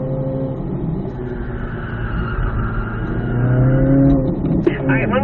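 A Chevrolet Corvette C8 Z06 engine drones steadily and loudly as the car drives a race track, swelling slightly as it pulls harder near the end, with a brief sharp click and no talk over it.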